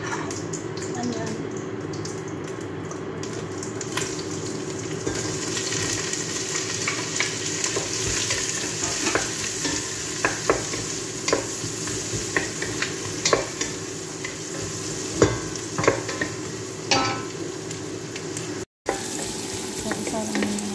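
Food frying in oil and butter in a pan, a steady hiss and sizzle with intermittent scraping and clinking as it is stirred, while a person talks over the cooking.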